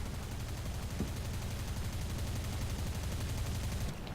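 Corsair fighter firing cannons at a PE-8 bomber in War Thunder: dense, sustained rumbling gunfire with rapid low thuds running steadily throughout, loud and close, with a brief sharper burst near the end.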